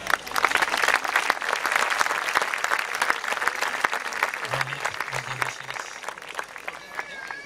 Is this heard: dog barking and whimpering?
no